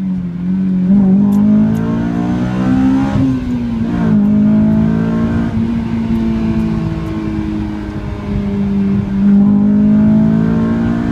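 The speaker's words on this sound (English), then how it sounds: "This is a 70mm dual exhaust." A 2005 Honda S2000 with a Milltek catback exhaust, Burke test pipe and 70mm dual exhaust revs loudly and close, its engine note rising and falling in steady sweeps with brief dips between pulls.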